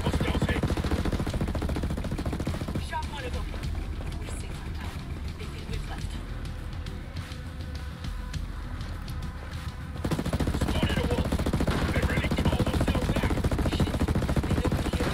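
Sustained automatic gunfire from the video game Rainbow Six Breakpoint rattles in dense, continuous bursts, loud throughout with a brief dip in the middle before intensifying again.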